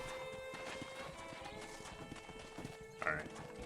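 Steady clip-clopping of horse hooves walking in the video game Red Dead Redemption, with a brief whinny near the end, over a busy background of music-like tones.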